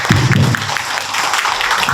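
An audience at a public forum on household waste and incineration facilities claps, a brief burst of steady applause with a low voice murmuring faintly at the start.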